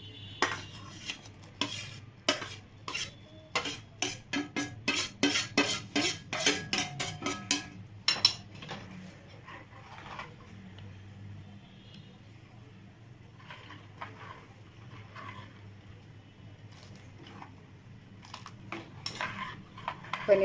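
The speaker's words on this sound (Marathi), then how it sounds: "पनीर चांगलं यामध्ये थोडंसं दूध आटेपर्यंत आपल्याला शिजवून घ्यायचं आहे" Paneer simmering in milk in a pan for kalakand, stirred with a metal spoon that clinks and scrapes rhythmically and loudly at first, then settles into faint, sparse taps over a soft background hum.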